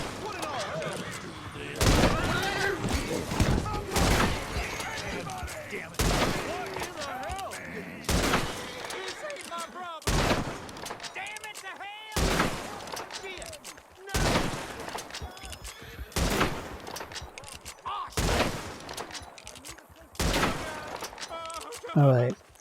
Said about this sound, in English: Now this is the Springfield, which I quite like, and we'll just shoot at that poster over there.